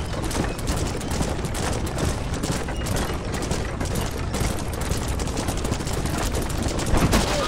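Sustained gunfire in Red Dead Redemption during a wagon shootout, a steady loud stream of overlapping rifle and pistol shots that holds throughout, with a slight swell near the end.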